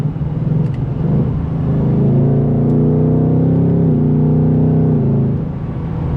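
A 2024 Mustang GT Premium V8 pulls hard from inside the cabin, its engine note climbing steadily through a gear before easing off, loud and continuous with no talking.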